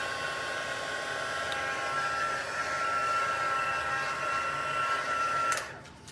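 A heat tool blows a steady, loud whooshing roar while melting embossing powder on vellum for a stamped card, then cuts off abruptly near the end.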